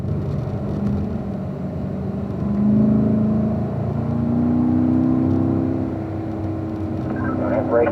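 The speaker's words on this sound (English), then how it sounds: "Up to fifth gear in those autos and up to fourth gear, Casey." A race car accelerates along a track, its engine note rising and holding as it climbs through the gears, a sustained close drone with a voice talking over it.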